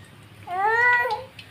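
A single drawn-out yowl from Miska the cat, rising and then falling over about a second, loud and close above a faint low hum.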